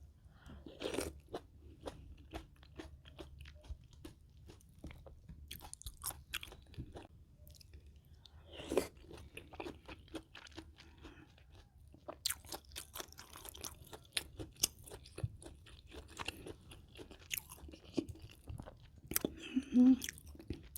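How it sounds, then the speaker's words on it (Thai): Close, crisp crunching and chewing of Thai pork curry with dill and fried pork, with irregular bites and mouth sounds throughout and no talking. "วันนี้จะพามากิน อ่อมหมูค่ะ อ่อมหมูห่อน ใส่กับผักซีลาวนะคะ แล้วก็หมูทอด"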